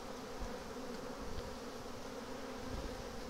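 Dense, steady buzzing of a honey bee swarm around hive boxes and a nearby tree, many insects droning together at close range without pause, no talking.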